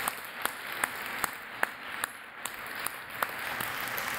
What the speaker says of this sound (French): une bonne main d'applaudissement pour ce bloc